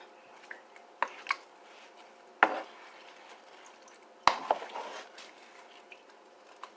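A spoon stirs a bouillon cube and onion mixture with cracked black pepper in a pot, giving a few sparse scraping clunks and wet knocks separated by quiet pauses, close and fairly soft.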